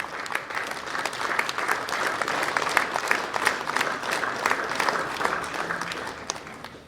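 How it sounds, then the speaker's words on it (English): An audience applauds at an athletics and swimming awards ceremony with a sustained, dense wash of clapping from a crowd, steady and fairly loud before fading slightly at the end. "Let's keep the applause and the encouragement going as loud as possible"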